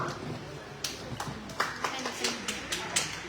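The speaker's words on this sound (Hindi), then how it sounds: "जोरदार तालियों के बीच स्वागत करें हमारे अगले प्रतिभागी का" Audience at a Hindi poetry recitation competition welcoming the next participant with applause: scattered, fairly faint hand claps that come in an uneven rhythm over a low background murmur.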